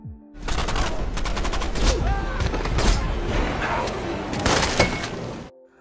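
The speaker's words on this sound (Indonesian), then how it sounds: "Suara tembakan pun kembali terdengar" Dense, continuous gunfire from a film's rescue-mission battle against rebels: rapid overlapping shots and bursts that stay loud and close for several seconds before cutting off.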